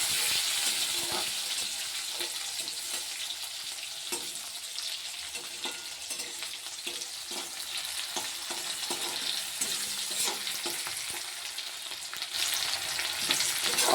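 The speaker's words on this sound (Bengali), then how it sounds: "কুচনো পেঁয়াজগুলোকে একটু ভালো করে ভেজে নেব।" Chopped onions frying in a pan, a continuous bright sizzle with faint stirring scrapes underneath, steady and close throughout, no voices.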